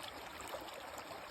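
A flowing stream on a John Muir Trail hike makes a steady, soft rushing trickle of water. It sounds near but fairly faint and plays alone, with no voices.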